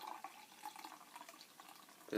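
Beer poured into a half pint glass: a soft, steady liquid splash and fizz at close range, running continuously with small surges throughout, ending in a brief louder clunk.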